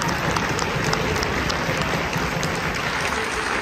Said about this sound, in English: One more round of applause for the concert orchestra